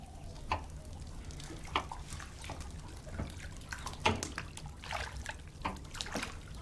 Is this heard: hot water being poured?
yes